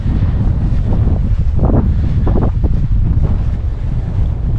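Strong wind gusting on an open alpine hill near Falls Creek, a loud continuous roar buffeting the microphone with rumbling gusts and no voices.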